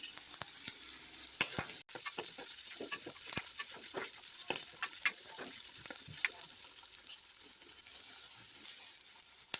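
Banana flower stir-fried with chili and turmeric powder, a steady hiss of sizzling with frequent scraping stir strokes and small ticks from the pan, close and continuous throughout with no voices.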